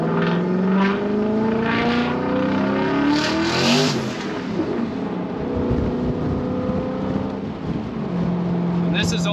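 A 1989 Mustang notchback with a twin-turbo Coyote engine swap, running 6 psi of boost, accelerates hard. The loud engine note rises in pitch as it revs, then eases off near the end.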